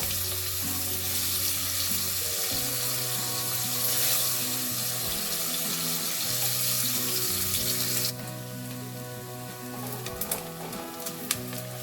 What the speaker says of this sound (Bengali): পেঁয়াজটাকে ভালো করে ভেজে নেবো, ভেজে বেরেস্তা বানিয়ে নেবো।